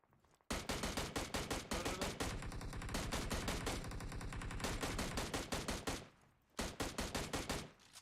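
Bots in PUBG Mobile fire sustained bursts of rapid automatic gunfire that pause briefly near the end, then resume with a few quicker shots; loud and close, with no talk over it.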